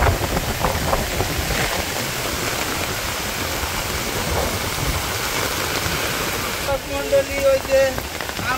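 A steady downpour of rainy-season rain hisses over rural Bangladesh, and near the end a brief voice or tonal sound rises above the constant wash of water.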